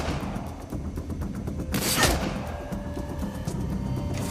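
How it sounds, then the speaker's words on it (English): A grenade explosion in the Shadowrun: Dragonfall video game bursts as one broad, loud blast midway through, sitting over a continuous murmur of game sound. "Throw grenade."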